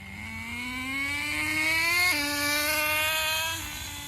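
A Traxxas Nitro Bandit nitro RC car's small engine whines loudly past, its pitch climbing steadily, dipping at a shift near the midpoint, then holding high before easing off.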